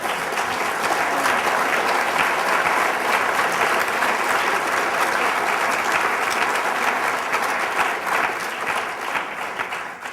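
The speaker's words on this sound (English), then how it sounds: "Can you give our panel a round of applause this morning?" An audience at a healthcare summit gives a panel sustained, dense applause, with many hands clapping at an even level throughout.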